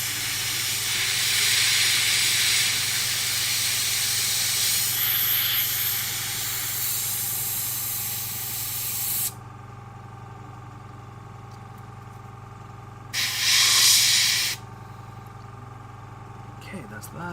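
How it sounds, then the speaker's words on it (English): An airbrush sprays paint in a long, loud, steady hiss, cuts off, then gives one short burst, at a miniature painting station. "You want to have an airbrush with a 2-stage airbrush trigger."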